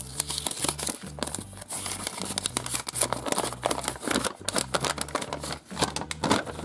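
Plastic packets from surprise toy sets are opened and handled close by, giving loud, irregular crinkling and crackling bursts with short tearing rustles throughout.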